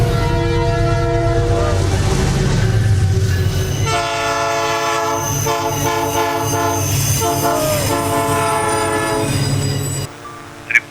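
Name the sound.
freight train passing, accelerating, with horn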